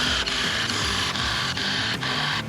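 Screws are driven by a power tool into a DIY solar-powered pontoon houseboat under construction. A loud, steady motor whir with evenly spaced clicks repeats about twice a second, and nobody speaks.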